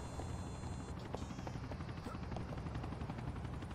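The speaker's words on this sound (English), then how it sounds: "Is there a police helicopter chilling out here?" A police helicopter's rotor chop hums quietly in the background in the video game GTA IV, a faint, steady thrumming with no talking over it.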